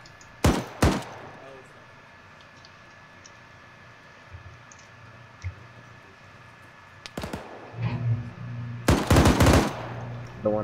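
Gunfire in the military video game ArmA 3, several sharp loud shots in bursts, two near the start and clusters later, over a low background rumble with faint talking.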